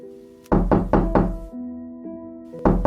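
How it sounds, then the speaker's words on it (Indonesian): A door is knocked in a radio drama sound effect, first a loud close run of four heavy raps, then a pause and a single knock again. "Lalu suara ketukan pintu kembali terdengar"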